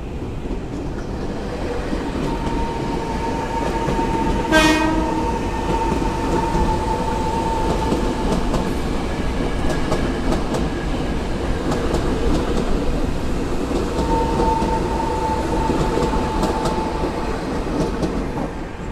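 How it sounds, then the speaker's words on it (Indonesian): A KRL commuter train passes a station, a steady loud rumble of wheels on rails with clickety-clack, a brief bright horn or brake tone partway through, and sustained tonal whine lingering throughout; no talk. "tadi sudah ada satu kereta lewat juga"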